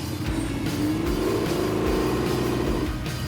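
Barn-find Pontiac Firebird engine running rich with fouling spark plugs, revving under throttle with a rough, loud, close rumble that rises and holds for a few seconds.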